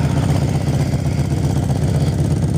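Motorcycle engine rumbling steadily as the bike rolls down an alley, a loud, close, continuous low throb with a slight clattering pulse and no speech.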